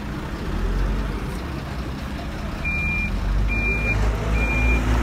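Truck reversing alarm beeping in three short bursts at a night road excavation, where an asphalt-digging backhoe loads a truck, the beeps riding over a steady low rumble of heavy machinery.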